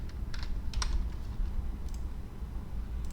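Keys clatter on a computer keyboard in short, uneven bursts of clicks over a low background hum. The typing is moderately close and there is no talking.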